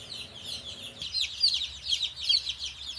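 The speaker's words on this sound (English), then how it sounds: "Fry pan bargain chickens. They are all just roosters" A crowd of Meyer Hatchery fry pan bargain chicks, all young roosters, peep and cheep close by in a dense, continuous chorus of high chirps after a brief quieter moment at the start.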